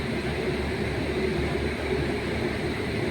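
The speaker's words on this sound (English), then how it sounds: "And there our train has finally come in, 12 minutes late, double decker." A double-decker passenger train arrives at an Indian station, a steady loud rumble of rolling wheels and carriages on the rails, continuous and close with no talking.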